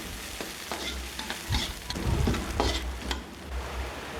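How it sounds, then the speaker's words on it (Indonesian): Shallots and garlic sautéing in a pan for an anchovy balado dish, close sizzling with repeated scraping stirs of a spatula, steady frying throughout without talk. "kita tumis bawang merah, bawang putih, dimasukkan aja semuanya sekaligus ya, biar cepat."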